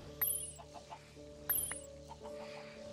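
Video-game chickens cluck inside a coop in two short bursts over a steady background music loop, with no voices.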